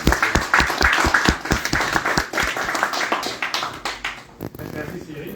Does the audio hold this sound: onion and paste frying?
no